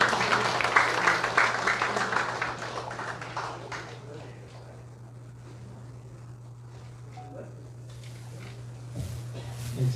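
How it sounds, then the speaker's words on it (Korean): Audience applause for a lawyer at a lecture hall event, a burst of clapping at the start that fades out after a few seconds into quiet room hum with faint stirring. "우리 수고하시는 도태우 변호사님께 여러분 힘찬 박수 부탁드립니다"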